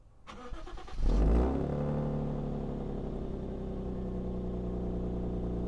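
A six-cylinder Lexus IS200 engine cranks briefly, fires up with a rev, then settles into a steady, deep idle nearby.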